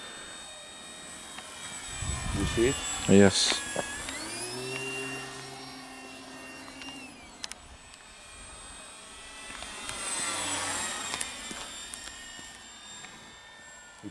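A Durafly T-28 Trojan USMC 1100mm RC model plane flies past on its maiden flight, the electric motor whine rising and falling in pitch as it nears and recedes, with brief voices early on.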